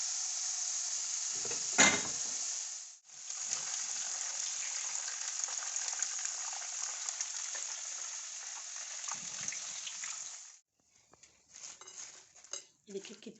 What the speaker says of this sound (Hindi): ये हमारी चिप्स जो है ना फ्राई हो चुकी है। अब हम इसको निकालते हैं।